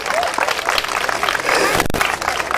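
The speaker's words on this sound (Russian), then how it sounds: "Ваши аплодисменты." Audience at a district karaoke event applauding, a dense continuous wash of clapping with some crowd voices mixed in.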